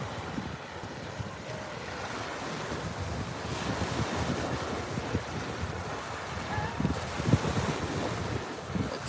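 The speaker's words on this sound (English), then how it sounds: "Looks like these waves are starting to build up a little momentum, but you can't surf on them." Ocean surf rolls in continuously on a beach on a clear day with swimmers in the water, a steady broadband wash of breaking waves mixed with wind noise on the microphone, no talking.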